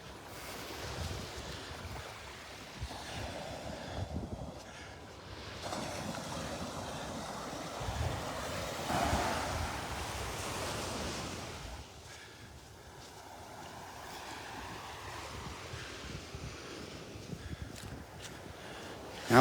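Gentle ocean surf washes onto the beach at Delnor-Wiggins in slow, soft swells and recessions, with light wind noise throughout.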